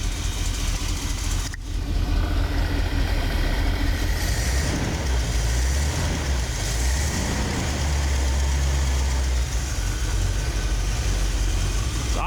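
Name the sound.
rebuilt Ford 460 engine idling in 1974 camper special truck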